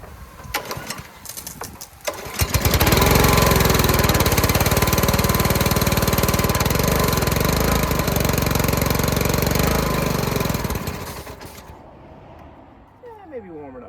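A petrol engine on a roadside-salvaged pressure washer, choke on, catches and runs loudly and steadily for about nine seconds close by, then cuts out abruptly, with a voice murmuring before and after.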